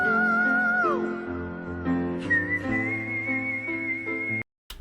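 A male singer producing a very high whistle-register tone that glides and then holds as a thin, piercing pitch, sustained and fairly close before cutting off abruptly.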